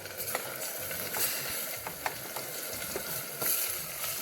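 Chicken pieces, with liver mixed in, fry in a hot pan with a steady crackling sizzle while being stirred, broken by clinks and scrapes from the utensil.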